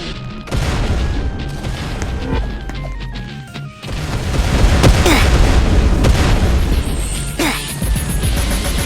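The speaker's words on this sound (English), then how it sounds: "Landmines near other landmines can explode each other, as seen in this clip." Landmines in a video game setting each other off: a run of heavy booms and crashing impacts, some stacked close together, loud over a busy game soundscape.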